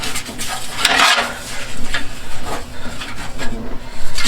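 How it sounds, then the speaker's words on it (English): Avocado oil spread across a hot Blackstone griddle with a utensil, giving close scraping and clinking strokes over a steady sizzling hiss, loud and alone. "I'm going to throw some avocado oil on the griddle. We're going to spread that out."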